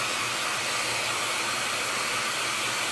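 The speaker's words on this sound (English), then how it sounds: "let me hit this with the hairdryer real quick" A hair dryer drying paint on a painted door hanger blows with a steady, loud, broadband whoosh that stays constant throughout, with no other sounds.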